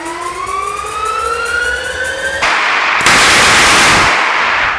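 Prop Batmobile machine guns in a garage start with a loud rising whine, then break into a sustained, harsh burst of rapid fire that grows louder partway through before cutting off.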